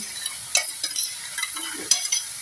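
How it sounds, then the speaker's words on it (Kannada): Cabbage and carrot go into a pan of fried tomato and get stirred, making irregular spatula scrapes and clatters over a soft sizzle, close by. "ಟೊಮೆಟೊ ಫ್ರೈ ಆದಮೇಲೆ ಈ ಕ್ಯಾಬೇಜ್ ಮತ್ತು ಕ್ಯಾರೆಟ್ ಇದೆಯಲ್ಲ, ಇದನ್ನು ಕೂಡ ಹಾಕ್ತಾಯಿದ್ದೇನೆ"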